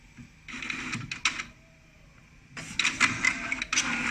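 An Epson L805 roll printer runs a test print, giving two bursts of mechanical whirring and clattering separated by a short quiet pause.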